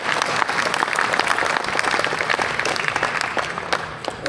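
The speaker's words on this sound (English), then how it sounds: "Applause for the pipes and drums and the dancers." Loud, sustained applause from an audience at a Veterans' House Canada anniversary celebration for the pipes and drums band and dancers; steady, dense clapping throughout.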